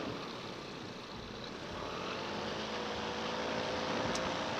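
Polini Thor 202 paramotor engine running in flight, a steady, loud propeller drone with harmonic hum that holds throughout, swelling slightly toward the end with airy wind rush.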